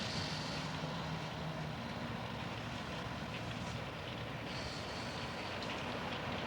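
Steady rain falls in a hot setting, a dense, even hiss spread across the whole stretch with a low rumble beneath, no break or voice.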